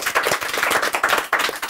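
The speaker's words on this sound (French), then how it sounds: "On peut tous applaudir Sniper." Audience clapping for the French rap group Sniper at a live show, a dense, steady burst of many hands close by with no talking.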